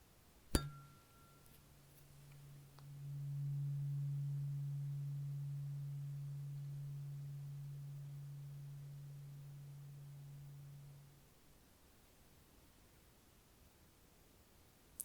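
A sharp metallic strike of a tuning fork followed by a pure, steady low tone that swells, hums evenly for several seconds, then fades out; quiet, no talking.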